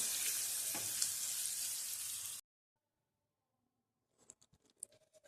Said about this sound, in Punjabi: ਹੁਣ ਆਪਾਂ ਇਹਨੂੰ ਥੋੜੀ ਦੇਰ ਲਈ ਫਰਾਈ ਕਰਦੇ ਰਵਾਂਗੇ ਸਿਮ ਗੈਸ ਤੇ